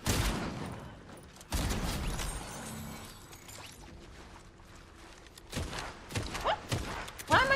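Gunfire from a player's weapon in the video game Fortnite: a loud opening burst, then sparse shots and clatter in a busy mix, with sharper bangs returning near the end.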